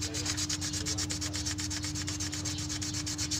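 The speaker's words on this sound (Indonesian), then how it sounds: "Ini yang baru saya gosok juga agar pelapis minyak ini terbuang ya." New ignition breaker points from a Toyota Kijang Super are rubbed with sandpaper to strip their oil coating. The strokes are quick, fast and even, sounding close and scratchy over a constant low electrical hum.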